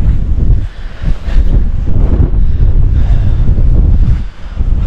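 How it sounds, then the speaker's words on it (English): Strong wind buffets the microphone at a wild camping spot on the mountain Slieve Meelmore, a loud, continuous gusting roar that surges and dips for the whole stretch with no voices. "A wee bit windier over there"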